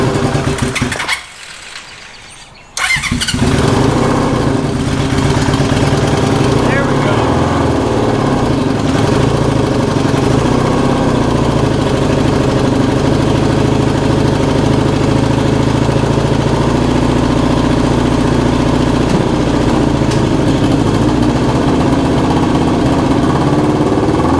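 Honda CB750 cafe racer motorcycle engine idling steadily after its first cold start of the year, a loud continuous rumble that settles in after a brief dip near the start, with no talking.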